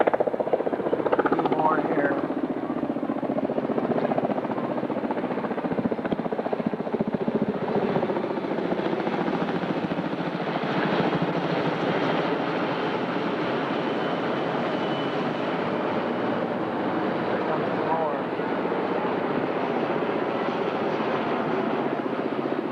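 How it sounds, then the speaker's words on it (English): A helicopter drones overhead above a deep river with a continuous, rumbling rotor wash that holds steady throughout, while a person speaks briefly near the start. "Helicopter going over."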